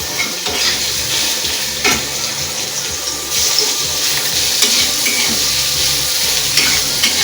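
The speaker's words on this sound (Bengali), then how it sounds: "কড়াই তেল দিয়ে আমি ছোটো পিস করা মাংসগুলো ভেজে নেবো" Small pieces of chicken fry in a little oil in a wok on a gas stove, giving a steady bright sizzle with occasional stirring scrapes and crackles, close up and continuous.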